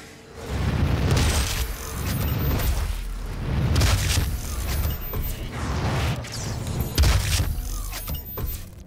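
Gauss cannon in Doom (2016) firing repeatedly, a run of heavy booming blasts with mechanical creaks and whirs between them, loud and close with no talking.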